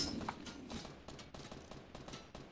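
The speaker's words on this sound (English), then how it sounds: "There's people shooting at us." Fortnite gunfire, a rapid run of moderately loud shots crackling in quick succession, fairly close, with a faint sound effect at the start and no talk.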